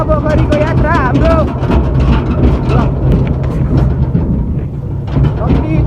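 A tractor grinds along a rough mountain road on the way to Gufa Pokhari, its heavy engine rumbling loud and close with constant clattering and jolting, while a voice speaks briefly over the din.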